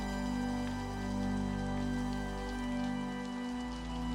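A steady rain pattern falls on a window, a faint, even wash of drops blended with a warm, low sustained drone that swells gently, quiet and unbroken without speech.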